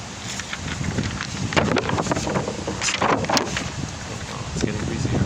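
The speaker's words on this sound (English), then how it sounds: "It's getting breezy here." Breezy wind buffeting an outdoor microphone, a constant loud rumbling roar across the whole stretch with gusty surges and no clear talk.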